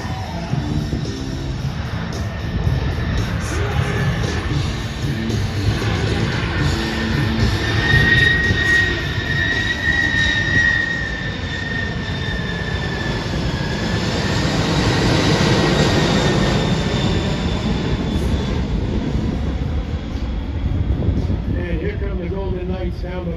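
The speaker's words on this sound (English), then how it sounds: "Here you go, ladies and gentlemen, slow flight, the" A C-5M Super Galaxy military transport jet makes a slow pass at an air force base airshow, a steady loud roar of engines with a rising whine building and fading over about twenty seconds.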